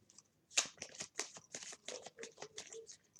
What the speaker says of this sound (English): I'm also going to be shuffling the yes or no oracle